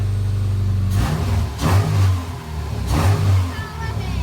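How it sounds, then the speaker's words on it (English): A small race car engine starts up and revs in several rising surges over a steady low rumble, close and loud, with a bit of background noise. "Good job starting the race car"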